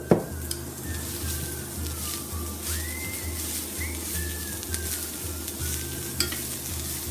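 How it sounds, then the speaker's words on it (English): Roughly six cups of chopped red cabbage sizzle steadily in a pan with pork drippings, a continuous close frying hiss with occasional stirring scrapes and faint whistle-like squeaks, no talking. "And now I'm putting my cabbage in the pan."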